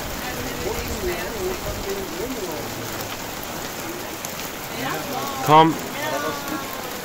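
Small, fine hail falling on a garden, a continuous dense pattering like heavy rain throughout, with a brief voice speaking partway through.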